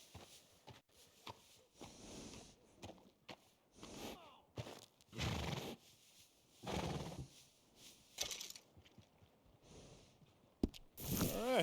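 A workhorse in the video game Red Dead Redemption 2 lets out several quiet whinnies and snorts, interspersed with a few soft hoof sounds, all faint and spaced apart.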